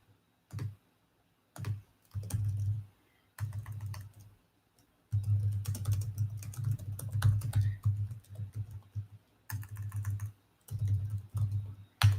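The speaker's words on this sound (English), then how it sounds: "Sorry if the typing's a little loud." Computer keyboard typing in bursts of rapid clicking keystrokes, close and fairly loud, separated by short pauses, with no talking.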